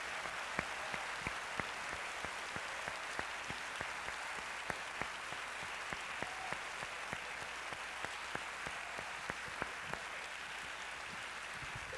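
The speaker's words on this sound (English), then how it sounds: "let's have a great round of applause for our students and their candor." A school audience applauds the students at an evening class-of-2021 meeting, with steady, dense clapping throughout. It sounds somewhat distant and even, and nobody talks.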